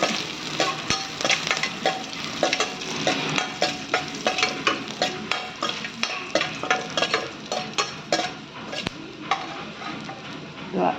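Garlic and curry leaves frying in a kadai for avalakki masala, a constant crackling sizzle under rapid, rhythmic spatula scrapes and clinks against the metal pan, close and busy throughout.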